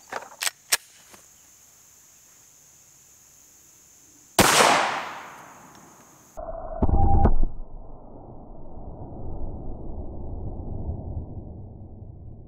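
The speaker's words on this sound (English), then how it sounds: "I'm gonna start with the 9mm Glock 17, and the bullet that we're shooting is the 124 grain plus P" A 9mm Glock 17 fires 124 grain +P HST rounds into ballistics gel blocks: a few small clicks, then one loud sharp shot with a long fading tail, and a second heavy burst a couple of seconds later, with no talking.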